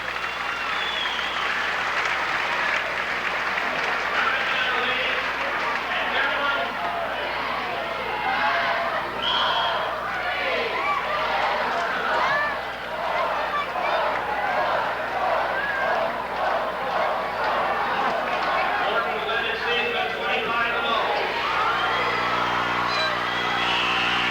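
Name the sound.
basketball crowd applauding player leaving the game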